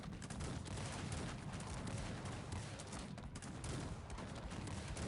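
Dragoons fire muskets in the Cossacks 3 strategy game, a dense continuous crackle of overlapping shots forming a loud, sustained battle roar throughout.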